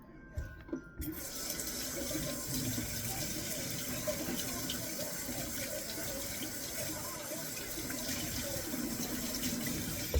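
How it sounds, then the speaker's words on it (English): Running tap water pours steadily into a sink while hands are washed beneath it, a continuous broadband rush starting after a brief quiet moment and holding evenly to the end, close and fairly loud with no talk. "I have to wash my fucking hands."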